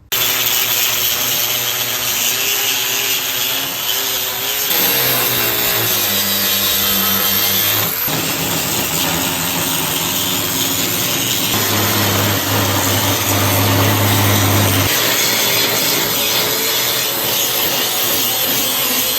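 Grinding off weld ends on a Cat cold planer, a loud steady abrasive whine that shifts pitch as the grinder bears down on the metal, with no talking.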